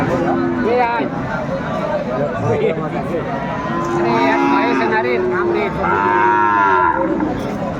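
Sahiwal cattle at a busy livestock market in Chattogram, lowing repeatedly with drawn-out moos from several animals, loud and close, over a steady background of crowd chatter.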